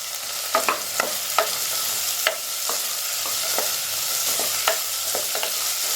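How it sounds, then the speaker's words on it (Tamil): Onions sautéing in a pan for road-side salna, a steady close sizzle with a scattering of sharp scraping stirs from a spatula at irregular intervals, no voices. "இப்போ வெங்காயம் பாதி அளவு வதங்கி இருக்கட்டும்"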